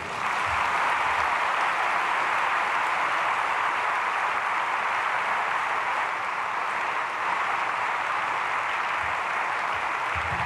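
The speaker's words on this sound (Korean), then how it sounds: "박수하겠습니다." A congregation applauds at a Sunday praise worship service in a Korean church. The clapping is a steady, dense wash that holds at an even level for about ten seconds, with no clear talking.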